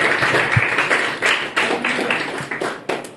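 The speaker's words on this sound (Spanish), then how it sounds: "Démosle un aplauso al Señor." A church congregation claps during a Spanish-language service, with uneven bursts of hand claps and a few sharper individual claps that rise and fall rather than holding a steady roar.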